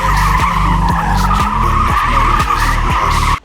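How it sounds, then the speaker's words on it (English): A BMW M4 in Isle of Man green, a 530-horsepower car, does burnouts on an empty parking lot, its engine roaring loud and close while the tires skid and squeal continuously, the revs rising and falling in repeated surges. "Did I do burnouts on an empty parking lot last weekend?"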